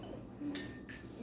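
Wine glasses clink together in a toast at a Jamaican escovitch fish meal, two bright ringing chimes close by, a short pause between them, over a quiet room.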